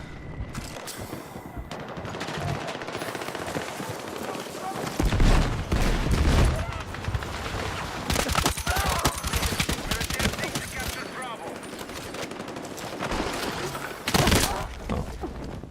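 Bursts of SMG fire from the Battlefield 6 game crackle in rapid volleys. Several loud, dense stretches of automatic shooting are separated by short pauses, with distant battle noise throughout.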